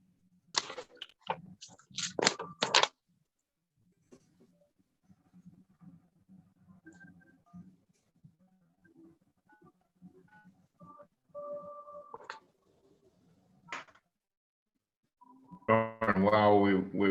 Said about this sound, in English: I'm gonna try dialing in my phone.